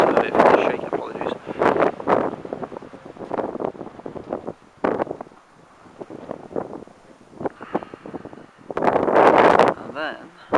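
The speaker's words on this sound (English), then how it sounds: "And it's extremely windy." Strong wind buffets the microphone beside a small marina, gusting in loud rumbling waves while a person talks over it.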